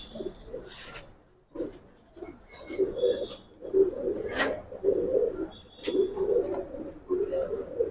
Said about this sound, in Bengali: অনেক পুরান জাতের কবুতর